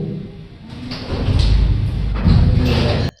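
A door jerked open suddenly in a sealed room produces a loud whooshing rush and rumbling thump lasting a few seconds, ending abruptly, with no voices over it.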